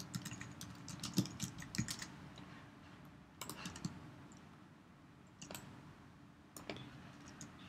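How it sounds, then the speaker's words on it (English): Typing on a computer keyboard, faint, quick bursts of key clicks separated by short pauses, with no voices. "Let me type once again"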